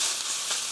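Onions stir-frying in a hot pan for a mushroom and vegetable japchae, giving a brief, steady, close sizzle with a hissing texture and no talking.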